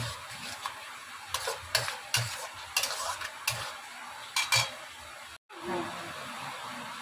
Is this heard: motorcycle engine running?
no